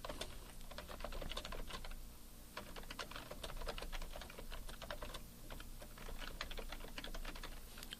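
Fast, continuous keystrokes rattle on a computer keyboard as text is entered, close and fairly quiet, with brief pauses between bursts of typing.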